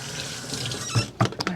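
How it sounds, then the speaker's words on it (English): Gloves rinsed under a running kitchen tap, a soft steady hiss of flowing water with a few brief splashes and knocks toward the end, close and fairly quiet. "let me rinse my gloves off real quick"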